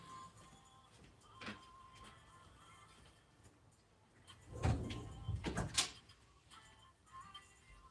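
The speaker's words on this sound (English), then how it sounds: "Let me shut this door." An indoor door is pushed shut, giving a couple of soft bumps and a louder thud with a latch click a few seconds in, heard alone over quiet room noise.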